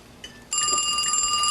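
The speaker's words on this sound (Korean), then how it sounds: "그날 밤 샘의 전화를 받은 핀은 기분이 좋아 보이는데요" A telephone rings with a bright, steady electronic trill, starting abruptly after a brief faint tone and continuing loud and alone.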